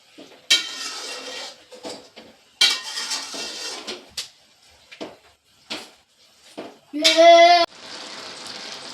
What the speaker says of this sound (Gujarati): અને હવે પાછું બધું હલાવીને મિક્સ કરી